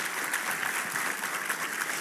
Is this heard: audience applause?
yes